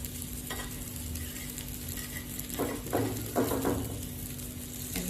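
Vegetable tikkis sizzle steadily in a pan with little oil, as a spatula scrapes and flips them in a few short bursts near the end.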